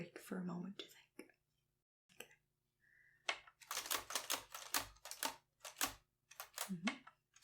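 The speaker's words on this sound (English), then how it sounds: "Let me know if I'm typing too fast and you need a break for a moment to think." Keys clack on a vintage typewriter in bursts of rapid strikes separated by short pauses, close and crisp, with soft-spoken voices in between.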